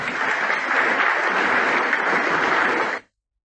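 Sustained applause from an assembly, a dense even wash of clapping held at steady loudness for about three seconds before cutting off abruptly into silence.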